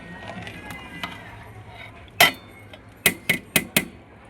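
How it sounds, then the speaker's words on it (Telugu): A metal lid comes off a pot of ghee rice, followed by a quick series of sharp clinks and taps from a spoon against the pot, over faint background noise. "ఇప్పుడు మూత ఓపెన్ చేసి ఒకసారి మన రైస్ని చక్కగా కలుపుకుందాం"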